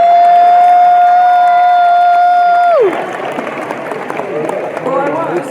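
A crowd at a conservative political speech at AmFest 2023 cheers and applauds: a steady sustained tone fills the first half, then broad, loud clapping and whooping takes over.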